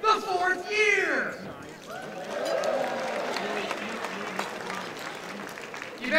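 Dinner audience at a book festival author dinner applauding steadily, a broad continuous wash of clapping with voices calling out at the start, moderately loud and sustained throughout.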